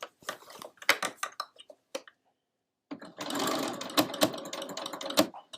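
A sewing machine stitches a thick burlap stocking. First come scattered, uneven needle thumps, then a short silence, then a steady close run of fast stitching with a few heavier knocks, and no speech.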